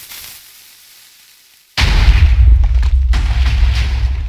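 After a near-silent lead-in, a Minecraft lava cannon fires a sudden loud blast that erupts into a sustained roaring, crackling rumble with a few sharp pops.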